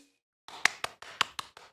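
A run of about six sharp hand claps after a brief silence, evenly spaced and fairly close, with no voices.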